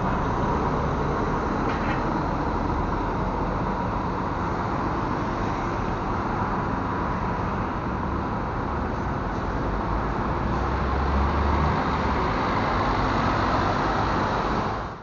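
Marcopolo G7 double-decker coach at the Rio de Janeiro bus station, heard as a steady, loud engine and road rumble with broadband noise and no speech over the whole stretch.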